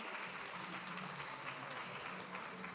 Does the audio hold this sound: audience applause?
yes